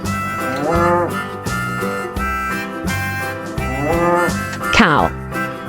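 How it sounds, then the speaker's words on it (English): Farm cattle mooing over repetitive backing music, with a couple of drawn-out lowing calls and a louder, rising moo toward the close, no voices. "cow,"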